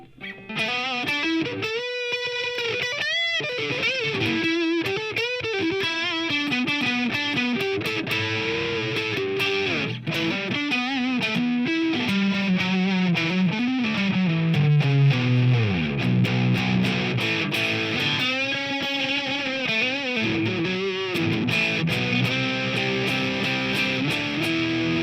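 Kiesel DCM7 electric guitar on its neck pickup, played through an Archon amp: a continuous run of sustained, saturated notes and chords with melodic lines and bends, loud and close throughout.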